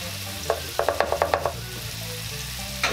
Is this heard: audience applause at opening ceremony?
no